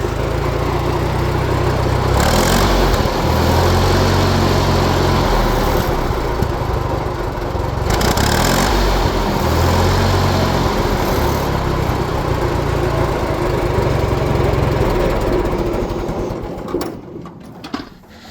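A 1949 J.I. Case LA tractor engine running steadily close by, a loud, continuous low throbbing rumble with slight rises and dips as gears change, fading out at the end with no talk.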